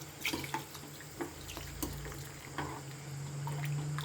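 Water pours and splashes steadily into a pot of rice for a few seconds, with soft clinks and a low background hum.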